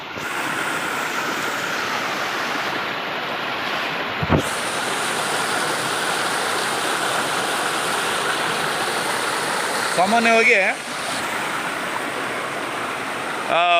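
Water rushes continuously near a seasonal waterfall at a forest site, a loud steady broadband roar that goes on throughout, briefly under a spoken word and a passing warbling sound near the end.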